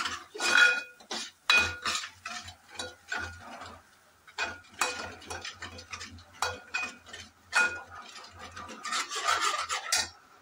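Turmeric is stirred into a mixture in a metal pot with a spoon, giving repeated scraping and clinking strokes in an uneven rhythm, fairly quiet and close, with no talk.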